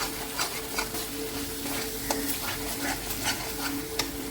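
A spoon stirs a masala of cashews and yogurt in a pan for paneer Afghani, scraping continuously over a soft, steady sizzle, with small clicks against the pan at close range.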